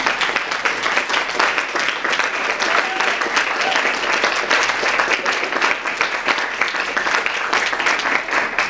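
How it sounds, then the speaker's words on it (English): Students at a university language awards ceremony give a sustained round of applause for faculty members, a steady dense crowd clapping that stays even and fairly loud throughout. "I think it'd be great if the students were to give a round of applause to the faculty members."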